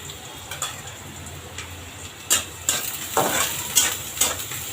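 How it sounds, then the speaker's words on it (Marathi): Onion tipped into hot oil with crackling cumin seeds in a kadhai and stirred, a steady close sizzle broken by sharp scraping stirs and spatula clinks. "जिरे तडतडले लगेच कांदा टाकायचा त्याच्यामध्ये"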